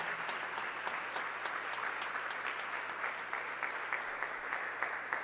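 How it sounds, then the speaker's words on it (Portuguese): Church congregation applauding during a service, a steady dense wash of clapping from many hands that holds at an even level throughout with no voices on top. "Vamos aplaudir o Senhor"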